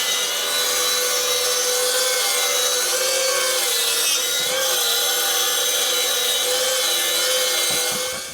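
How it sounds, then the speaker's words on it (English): A rail saw cuts an oak-faced MDF sheet down into smaller pieces in a workshop, giving a loud, steady whining cut that holds for about eight seconds, with a few low knocks near the end as the blade runs out. "So I'm going to take out these from here with the rail saw."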